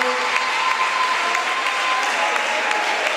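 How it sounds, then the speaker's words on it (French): An audience applauding a professor being introduced at a debate, a loud, sustained, even patter of many clapping hands close by with a faint crowd murmur underneath. "Un peu plus d'applaudissements"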